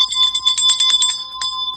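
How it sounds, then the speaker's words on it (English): A bell rung in a quick series of bright metallic strikes, each with a sustained ringing tone, then one more strike after a short pause, loud and close with no talk. "We got to ring that bell."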